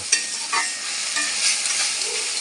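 Spices, green chilies, salt and sugar are stirred and sautéed in a pan, giving a continuous close hiss with brief scraping strokes of a spatula.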